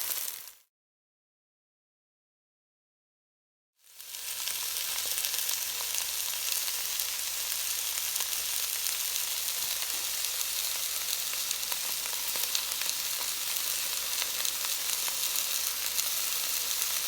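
Mirepoix of onion, carrot and celery browning in olive oil in a Dutch oven, a steady close sizzle and fry that runs loud and unbroken after a brief silent gap near the start.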